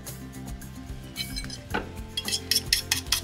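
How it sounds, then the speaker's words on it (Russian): Leftover egg is stirred in a bowl while making quick breakfast pancakes with sausage and cheese. Close, brisk clinks and scrapes of a utensil against the dish speed up and get louder toward the end. "Опять размешали оставшееся яйцо."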